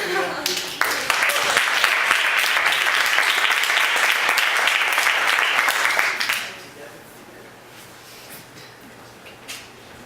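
Dense, loud applause from a large audience for about six seconds, then it cuts off abruptly, leaving a quiet room with faint stray noises.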